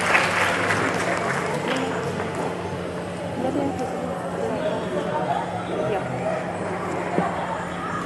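An audience applauds at a school debate as the competing teams are introduced, a steady wash of clapping mixed with crowd chatter, moderately loud and sustained throughout.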